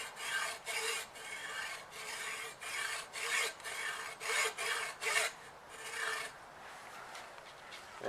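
A road bike frame is cut by hand with a rasping back-and-forth stroke, repeated about ten times at a steady rhythm, close but fairly quiet, then the strokes trail off into lighter scraping.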